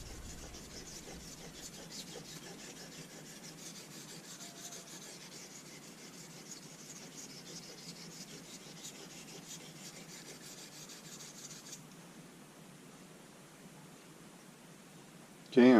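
A straight razor blade being honed on a sharpening stone with light, smooth, even strokes, giving a steady, close, continuous rasping rub that carries on without pause.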